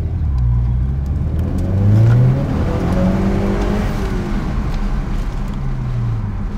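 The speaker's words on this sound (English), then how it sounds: "see if you guys can hear the turbo spool" A tuned 10th-generation Honda Accord in sport mode accelerates hard, its engine droning loud and close with rising and falling pitch sweeps as it revs through the gears, a faint turbo whir riding underneath.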